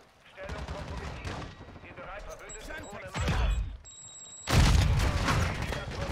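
Rapid gunfire in Modern Warfare 2, played on a controller, crackling in bursts with a heavier volley late on, under a man's chatter.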